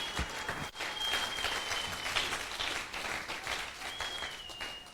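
A church congregation applauds and cheers with joyful shouts during worship, a dense, steady wash of clapping with high voices and whistles rising over it, loud and continuous throughout.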